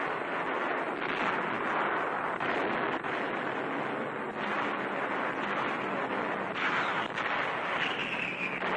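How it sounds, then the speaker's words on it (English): Dense, continuous roar of wartime explosions and rumbling blasts from bombs striking two bridges north of Rome in Italy, 1945, heard as a loud, unbroken wash of noise without clear separate bursts. "North of Rome, bombs hit 2 important bridges."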